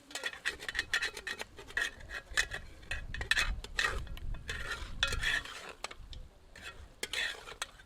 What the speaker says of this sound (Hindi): मिलाकर करछी चलाते हैं ताकि तली पर चिपका हुआ मसाला तली से एकदम हट जाए